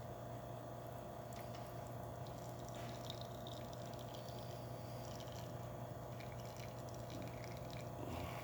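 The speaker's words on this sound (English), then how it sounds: "let's go ahead and make an espresso shot in it" A Quickmilk Vertrano espresso machine, freshly serviced, pulls a shot: a steady pump hum runs under continuous liquid trickling and dripping, close and even throughout with no talking.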